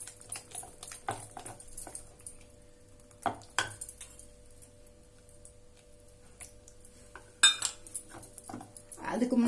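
Semolina cake batter mixed with milk and baking soda in a bowl, a spoon clinking and scraping against the sides in scattered, uneven taps close by, with quiet pauses in between.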